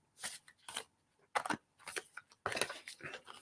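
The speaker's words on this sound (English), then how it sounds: "Okay, let's have a shuffle and see where we get." Several short bursts of a deck of cards being shuffled by hand during a psychic card reading, crisp riffling rustles separated by brief pauses, close and fairly quiet.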